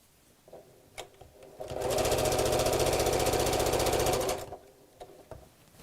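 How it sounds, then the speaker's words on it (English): A sewing machine stitches around the top of a fabric bag in one steady run of about two and a half seconds, a fast even mechanical whirr close by, with quiet handling clicks before and after. "And then we're going to sew all the way around the top."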